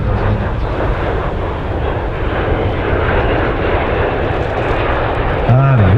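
A T-33 Shooting Star jet making a pass at the 2023 Pacific Airshow, its engines a constant loud, broad roar that fills the whole stretch, with wind buffeting the microphone.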